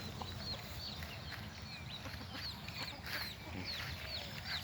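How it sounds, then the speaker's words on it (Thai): Chickens cluck and chirp softly in the distance, scattered short calls over a steady low outdoor hum. "ไก่ตัวผูก็มีอยู่เจ็ดตัวครับ"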